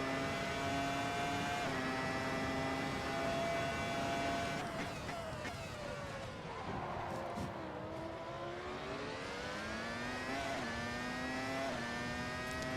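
1999 Ferrari Formula 1 car engine in Assetto Corsa, a high, loud, continuous whine that holds steady, drops as the car slows and climbs again as it accelerates, close and constant throughout.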